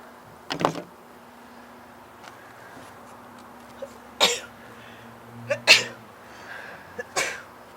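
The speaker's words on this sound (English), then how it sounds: "Accompanied by a chorus of sneezes." A handful of sharp sneezes, some with coughs, burst out at scattered intervals during a Yardistry greenhouse build with shelves and door work, loud against a quiet background with a faint hum between them.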